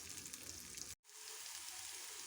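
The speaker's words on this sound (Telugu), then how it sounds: "వీటిని ఆయిల్లోనే సాటే చేసుకోవాలి. ఇప్పుడు ఒక 2 minutes ఇలానే సాటే చేసుకుంటే." Pigeon pea pods sauté in hot oil with a loud, dense, continuous sizzle up close, broken by a split-second gap before the crackle resumes.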